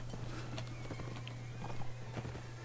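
Horse hooves clop during a battle in the video game Mount & Blade, a quick irregular run of hoof beats over a steady hum and background din.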